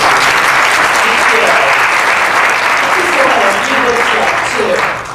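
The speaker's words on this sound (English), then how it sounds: "Let's give Kay another round of applause" Loud, dense audience applause fills the room at a community talk, a continuous wash of clapping that holds steady and then tapers slightly at the end, with faint voices mixed underneath.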